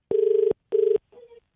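An outgoing telephone call produces ringback tones: two steady electronic rings followed by a fainter, shorter third, with silence between them.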